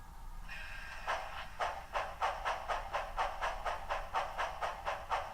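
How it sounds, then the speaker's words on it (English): A Tsunami2 sound decoder in a model steam locomotive running forward at low speed gives a steady, evenly spaced series of hissing steam chuffs, about two per second, after a soft hiss starts up. "by setting the chuff rate in CV114, the decoder can identify how quickly that motor is rotating and therefore keep the chuffs in time"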